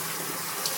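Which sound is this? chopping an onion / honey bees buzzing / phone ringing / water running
water running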